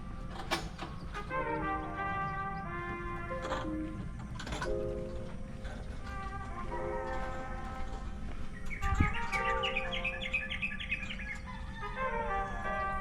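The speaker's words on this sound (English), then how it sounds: "Some nice bird noises and stuff." Birds chirp and trill repeatedly through the Bali jungle, a layered chorus of calls at mid distance over a steady background hum, with one brief thump near the end.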